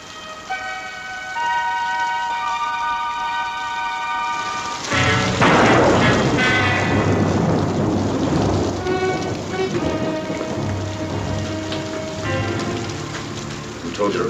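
A heavy thunderstorm, with steady pouring rain and rumbling thunder, swells in suddenly partway through and then roars on continuously beneath orchestral music.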